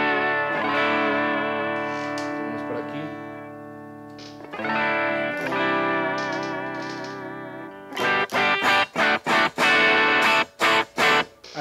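An electric guitar plays through a Valeton Dapper overdrive pedal with a mild, soft overdrive, first ringing sustained chords and then sharp, rhythmic choppy strums, loud and close.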